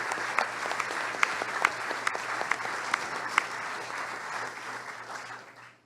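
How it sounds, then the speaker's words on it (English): An audience at an evening rebrand pitch event claps for the partners, producing a warm, dense round of applause with sharp individual claps standing out, tapering off toward the end. "I want to give a huge round of applause just for all of these amazing partners here tonight."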